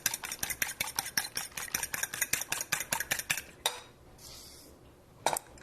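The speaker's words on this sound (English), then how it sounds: "Beat that egg a bit." An egg is beaten in a bowl with a utensil, giving a quick, steady run of sharp clinking strokes against the dish that stops, followed by a softer rustle and one last clatter.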